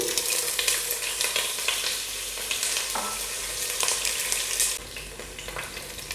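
Large cut potato pieces frying in hot oil over a high flame for Bombay biryani, with a loud, dense, continuous sizzle and crackle close up, easing slightly near the end.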